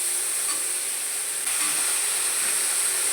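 Thin-sliced fresh flat beans dropped into hot oil in a pan, giving a loud, steady hiss of frying that swells slightly partway through, with no voices.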